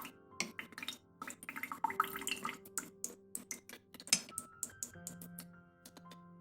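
Water runs from a tap over a straight razor while the blade is worked, with irregular dripping and splashing and sharp clicks and taps of metal, close and fairly quiet.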